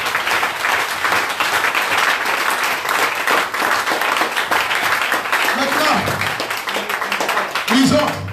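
A church congregation at a worship service claps and applauds loudly and steadily at close range. The applause fades slightly near the end as a few voices come through.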